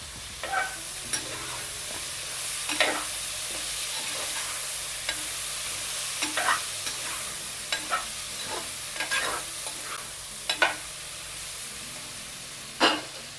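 Okra, drumstick, onion and chopped tomatoes sauté in a pan with a continuous hissing sizzle, while a spatula scrapes and knocks against the pan at irregular moments, one louder clatter near the end.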